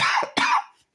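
A person coughs twice in quick succession, close and fairly loud, the second cough harsher, followed by a short fade to silence.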